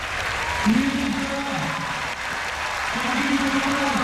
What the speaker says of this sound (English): And a big applause from everybody.